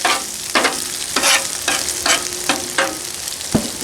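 Chopped ribeye and melting cheese sizzle loudly on a hot griddle, a steady close fry broken by regular scraping strokes of a spatula.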